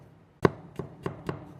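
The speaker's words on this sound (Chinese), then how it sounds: "接下来准备一些大蒜，给它切成蒜片" A kitchen knife slices garlic cloves into thin slices on a board, giving four distinct crisp chops spaced apart, the first loudest, close up with no talking.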